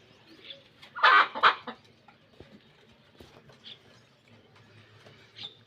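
Pigeons in a double breeding shed give a couple of loud, close bird calls about a second in, then settle into faint, scattered chirps over quiet background noise.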